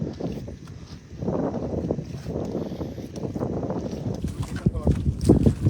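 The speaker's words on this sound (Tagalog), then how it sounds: "Malakas na yung hangin." Strong wind buffets a fishing boat at sea, a rough, gusting rumble on the microphone that rises and falls, with people talking over it.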